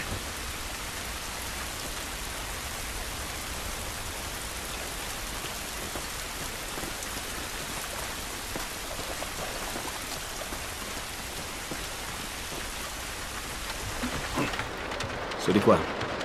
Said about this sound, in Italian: Questa pioggia non va bene.